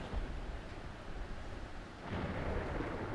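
Steady rain hisses in a horror video game while low thunder rumbles through, swelling louder partway along, with no voices.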